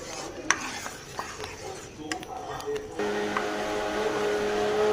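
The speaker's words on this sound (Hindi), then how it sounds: "और इसे हमने हिलाते जाना है ताकि इसमें कोई भी गुठली वगैरह ना बने" Custard cooks in a pot while a spoon stirs it constantly, scraping and clinking unevenly against the metal. A louder, steady hum takes over partway through.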